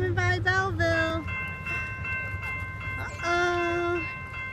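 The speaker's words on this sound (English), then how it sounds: "We're waiting for a big steam train coming by Belleville." A train horn sounds in several long blasts, with a low rumble of an approaching 1945 steam locomotive, number 765, beneath and a steady hum throughout, in Belleville, Michigan.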